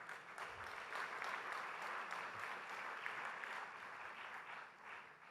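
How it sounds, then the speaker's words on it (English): Steady round of applause from an audience at the FICCI Frames 2017 inauguration, continuous even clapping from a large crowd, heard from a distance and fairly quiet overall. "I think a loud round of applause is in order for the 18th year of"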